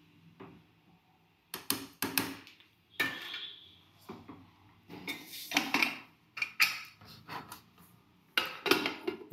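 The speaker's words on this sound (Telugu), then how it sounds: "మూత పెట్టేస్తున్నానండి." A lid is set onto a cooking pot on a home stove, giving a series of short metallic clinks and clatters spread over several seconds with quiet gaps between them.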